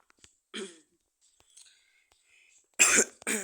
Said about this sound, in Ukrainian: Я тут еще кашляю.